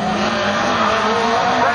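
Autocross race cars battle in the 2007 German championship final at Seelow, engines roaring continuously with tires squealing as they slide sideways, loud and steady throughout, with a commentator speaking over the noise.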